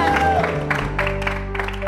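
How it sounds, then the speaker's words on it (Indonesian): A studio audience claps for a home cook on an Indonesian television cooking-battle show. The applause breaks out in bursts over background music and a voice. "Tepuk tangan buat Bu Siska"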